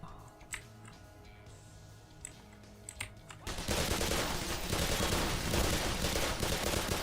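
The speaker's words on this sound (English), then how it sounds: "I'll just burst fire because it's much easier for me." Sporadic single gunshots give way to sustained dense rapid gunfire in the video game Black Mesa, loud and continuous through the second half.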